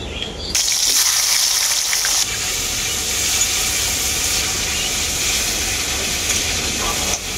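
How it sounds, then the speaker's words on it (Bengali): Bitter gourd frying in oil in a home kitchen, a loud steady sizzle and hiss that starts abruptly and continues without a break, with no talking over it. "এরপর আমি উচ্ছেটাকে কিন্তু ভালো করেই ভেজে নেব।"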